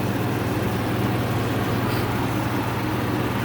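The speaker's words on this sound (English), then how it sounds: "It's been sitting here for about 10-15 minutes idling." A Ford F-150 pickup's 5.0 V8 engine idles after a water pump and thermostat replacement, giving a steady, even low rumble with continuous hiss and no change in pace, heard alone.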